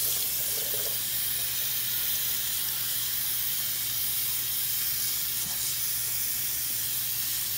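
Running water from a tap fills a sink for a puppy's first bath, a steady hissing, spraying stream that continues unbroken and close by with no talking.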